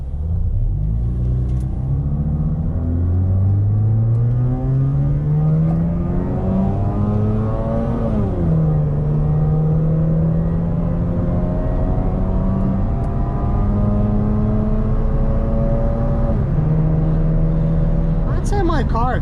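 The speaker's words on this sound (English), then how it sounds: "I'd say my car accelerates pretty good for something that's 15 years old." A 15-year-old Mazda RX8 accelerating hard, its rotary engine revving up through rising pitches with gear changes, loud and close, with no one speaking.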